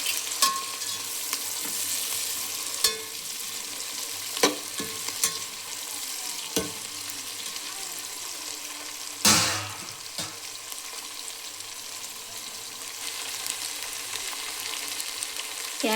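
Potatoes and beans stir-fry in a pan with a constant close sizzle, punctuated by sharp scrapes and clanks of a spoon against the pan; no voices.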